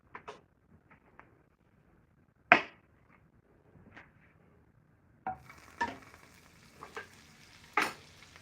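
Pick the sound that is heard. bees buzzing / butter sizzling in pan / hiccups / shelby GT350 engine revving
butter sizzling in pan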